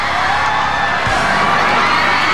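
An audience at a live event shouting and cheering loudly, a continuous dense roar of many voices with whoops, close and unbroken throughout.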